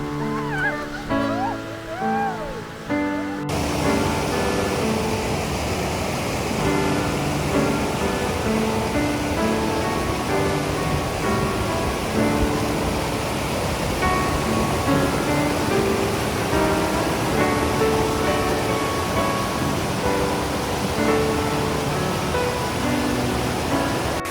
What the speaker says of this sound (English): This romantic walk leads along the river Schächen, which is fed by glacier water.